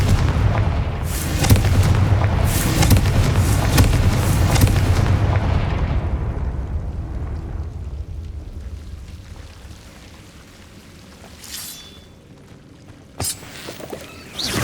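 Confringo blasting spells explode in Hogwarts Legacy, a loud, dense barrage of booming blasts and crackles that rumbles for several seconds, fades into a low roar, then a few sharper isolated bangs follow near the end.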